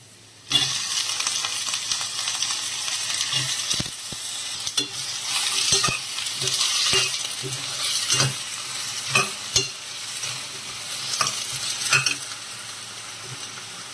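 Cut tomato pieces fry in a pan with crushed ginger, a steady loud sizzle broken by repeated spatula scrapes and knocks. No one speaks.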